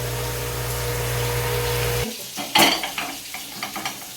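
Cauliflower and potato curry sizzles in a pan, then the sizzle cuts off and metal clatters and scrapes as it goes into a pressure cooker, with a few sharp knocks of utensils and lid.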